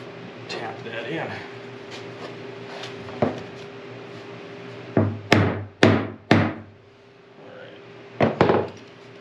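A hammer taps on a DIY wooden filament dryer for a 3D printer, a handful of sharp close knocks in a quick cluster followed by a later pair, with quieter handling sounds and talk in between.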